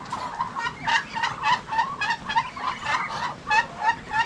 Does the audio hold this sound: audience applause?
no